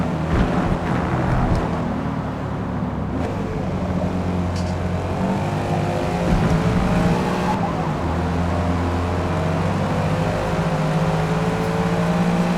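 Race car engines in the Forza Motorsport video game drone loudly and continuously, with layered rising and falling engine tones as the cars accelerate through turns; no talking.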